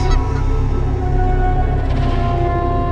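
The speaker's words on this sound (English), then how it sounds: "Geese swim on the water. This is a family of geese." A family of geese on the water honks in a steady, close chorus of overlapping nasal calls that fills the whole stretch without a break.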